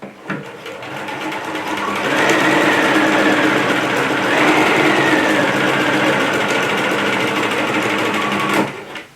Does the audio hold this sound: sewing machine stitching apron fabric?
yes